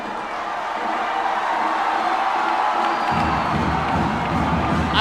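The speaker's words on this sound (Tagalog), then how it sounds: "with this crowd growling and roaring" A basketball crowd at a Philippine cup game roaring and cheering, a broad steady wall of voices that swells louder partway through and stays loud to the end.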